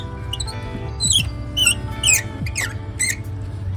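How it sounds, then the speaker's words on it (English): A series of sharp, high-pitched metallic squeaks from BMW N63 spark plugs being unscrewed, several short chirps in a row, close up over a low steady hum. "I don't know why N55 and N63 spark plugs are so squeaky."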